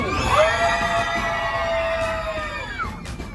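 A crowd of roller coaster riders screams together in a long, sustained chorus of high shrieks, loud and close, fading slightly at the end.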